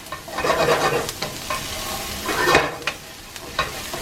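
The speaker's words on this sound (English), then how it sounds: "frying them a little bit with some oil really makes it pop" Seasonings for chili sizzle in hot oil while a utensil stirs and scrapes through the pan in uneven bursts, fairly close.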